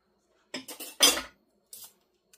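A utensil mixes taco seasoning into dry refried beans for a bean dip, giving a few short scraping clinks against the bowl in quick bursts, then a pause and one lighter scrape, close and alone.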